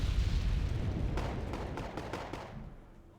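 Artillery fires in the wartime strategy game Wargame: AirLand Battle as a low, distant rumbling boom with a few muffled thuds layered in. The sound is faint and gradually fades out.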